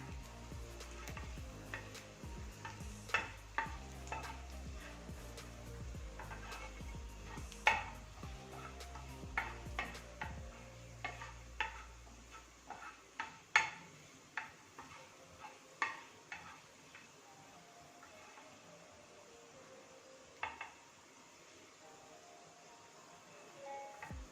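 Onions and other ingredients for homemade pizza sauce are stirred and sautéed in a pan, with repeated soft scraping and clinking of a spoon over a low sizzle, plus occasional sharper knocks, fairly close and without talk.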